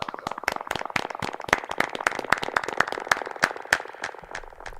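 A few people clap in quick, uneven succession during a live music stream's vocal session, crisp close hand claps in a rapid rhythm with no talk over them.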